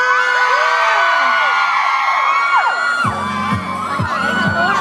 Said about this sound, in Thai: ถ้าพร้อมแล้วขอเสียงกรี๊ดดังให้คุณบาสค